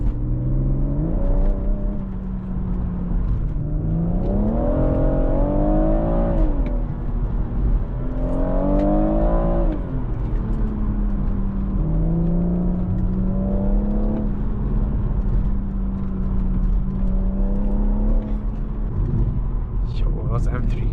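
A BMW M140i engine pulls hard through the gears while driving, its tone rising and falling in repeated surges, steady and close, with voices chatting over the engine noise.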